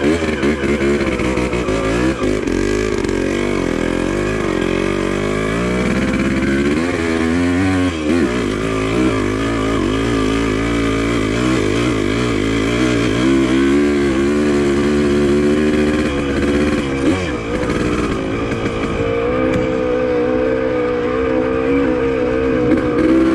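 A Yamaha DT180 trail motorcycle engine labours loud and close for a long stretch while climbing a steep hill on a dirt trail, its pitch rising and falling with throttle changes and no talk over it.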